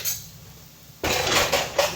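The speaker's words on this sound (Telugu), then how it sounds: "ఇది ఏగలికి గిన్నెలు ఎత్తి పెట్టేద్దాం." Metal cooking pots and vessels lifted and set away in a home kitchen after cooking: quiet at first, then a run of close clanks and scrapes, with two sharper knocks near the end.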